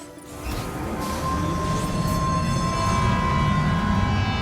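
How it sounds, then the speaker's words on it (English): Monorail ride in the Death Stranding 2 video game, a steady rolling rumble with a sustained whining tone and faint metallic squeal, continuous and fairly loud throughout. "I will get on the monorail"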